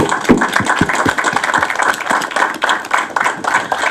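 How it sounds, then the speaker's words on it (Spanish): A small crowd claps steadily and densely throughout, without pause, at an outdoor ceremony presenting a framed picture and a plaque at a cycling track. "Un aplauso, por favor."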